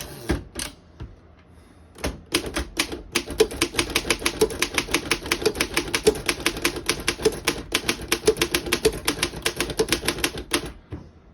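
Antique 1912 Underwood No.5 desktop typewriter set to double space, its keys striking in a quick, steady clatter of sharp clicks after a few slower opening taps, close and clear with no talking.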